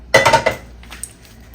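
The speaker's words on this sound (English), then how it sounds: "As promised, we are gonna scrape this pan out." A spatula scrapes and clanks against a pan while clearing out creamy Alfredo meat sauce, with a short loud burst of metallic scraping followed by a faint click, no voices.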